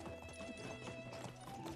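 Horse hooves clip-clop in the medieval survival game Medieval Dynasty, a quick steady rhythm of soft close hoof strikes under a constant low ambient hum.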